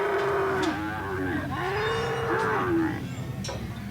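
A bull at a bull riding competition gives loud, close, drawn-out moos and bellows with rising and falling pitch, heard alone over several seconds.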